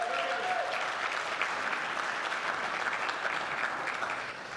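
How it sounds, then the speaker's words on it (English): Applause from a large audience at a welcome luncheon, steady dense clapping sustained for several seconds before tapering slightly at the end, no speech over it. "Let's give her and her team a round of applause."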